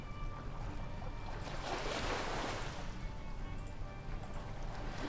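Rushing sea water and surf effects from the Nancy Drew: Sea of Darkness game, a steady broad wash of waves with a swell building mid-clip, no talk.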